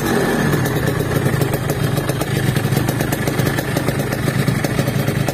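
A Yamaha RX King motorcycle engine runs at idle close by, with a loud, rapid, rattling two-stroke putter that keeps a constant level throughout and no voices.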